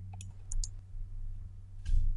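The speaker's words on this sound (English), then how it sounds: "Click the Save button." A few sharp computer mouse clicks, crisp and close, over a low steady hum.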